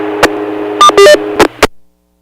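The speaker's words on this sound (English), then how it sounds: "I got a breaking squelch tone" A burst of radio static hiss with a low steady hum on an amateur television repeater, broken by short squelch tone bursts and clicks with no audio before the carrier cuts to silence.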